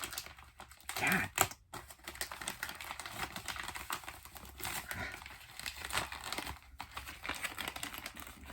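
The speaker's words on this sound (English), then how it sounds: "I'm gonna have to like rip this bag." Crinkly plastic rustling and tearing with sharp bursts, close and fairly loud, no talking.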